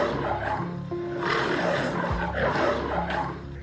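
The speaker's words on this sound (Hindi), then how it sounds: "तभी उसे शेर की आवाज सुनाई दी" A cartoon lion roars in a jungle, a drawn-out growling roar layered with music and tones, moderately loud and continuous.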